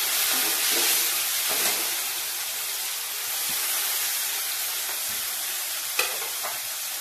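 Onions sizzle and fry steadily in a pan for an Australian egg gravy, a continuous close crackling hiss with occasional stirring scrapes and small pops.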